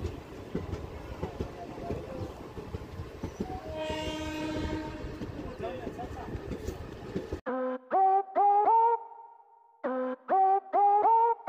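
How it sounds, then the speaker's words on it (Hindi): Indian Railways passenger train, the Janki Express, running on its route, with steady rumbling noise that ends after several seconds, followed by repeated loud tonal honking bursts, likely the train horn. "अपन लोग की ट्रेन अभी चल रही है"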